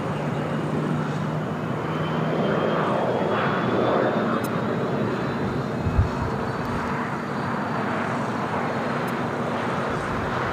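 A jet airliner takes off at LAX, a loud, broad engine roar heard from a distance that swells and then holds steady throughout.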